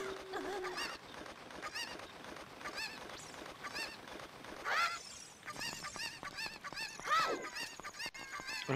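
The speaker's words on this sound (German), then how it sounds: "Darf ich dieses Huhn auch nochmal aufnehmen?" A chicken in The Legend of Zelda: Ocarina of Time 3D clucks and squawks repeatedly in short, bright bursts over a quiet game background, with no talking.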